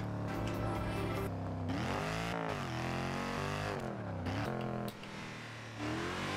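A Mercedes SLR engine in the video game Forza Horizon 2 revs loud and close, its pitch rising and falling through repeated throttle blips and gear changes, with a short dip near the end before it roars back.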